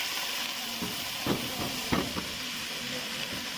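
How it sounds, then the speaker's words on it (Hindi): Chicken wings sautéing with garlic in a hot pan give a steady, close frying sizzle and hiss, broken by a few brief stirring scrapes partway through. "थोड़ा सा और इसको मैं सौते करूँगी"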